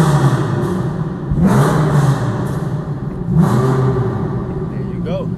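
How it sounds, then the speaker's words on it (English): A Japanese-market car revs hard as the clutch is dumped for a launch, giving two rising engine surges over a steady idle-like drone, with voices nearby. "You gotta come off the clutch fast and start revving it."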